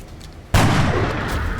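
A sniper rifle shot in the strategy game XCOM Long War: a single sudden loud blast breaks a quiet ambient bed and rolls out into a sustained, rumbling tail.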